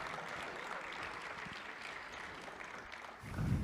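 Audience applause at a church panel event as a theologian guest is welcomed on stage; steady, moderately loud clapping from a crowd fills the whole stretch, with a brief louder low thump near the end.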